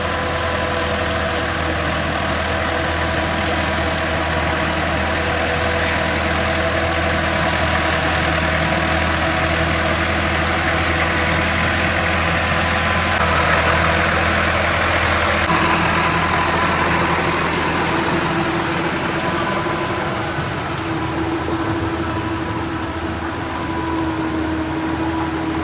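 A tractor engine idles in a field, giving a steady, unbroken mechanical rumble at close range for about 25 seconds with no speech.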